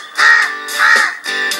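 A crow caws three times in a row, loud and close, each harsh call stretched and evenly spaced with no other sounds around it.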